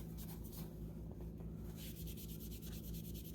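Quiet, steady rubbing as dirt is worked off a soiled Cabbage Patch Kids doll's face, a soft continuous scrubbing with faint repeated strokes close by and no talking.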